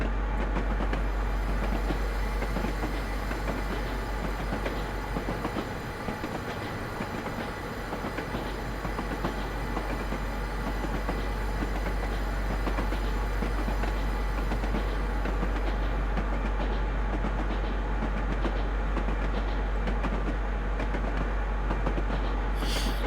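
A simulated Amtrak P42DC diesel locomotive runs through Feather River Canyon in Train Simulator, a steady loud rumble with a deep low hum and rolling wheel clatter that continues without a break.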